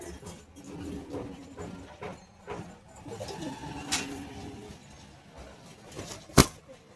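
Pigeons cooing in soft, low repeated calls over background noise, with a sharp click near the end.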